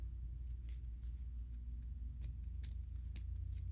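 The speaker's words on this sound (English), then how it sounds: "we're gonna cut this piece." Scissors cutting a piece of material for a wreath, a series of crisp, close snips at an uneven rhythm over a low steady background hum.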